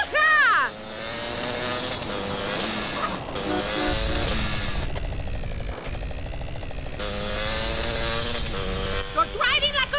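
A car engine revs and drones almost continuously during a GTA San Andreas drive-by mission, with the pitch rising and falling as it accelerates, heard under shouted voices and game noise.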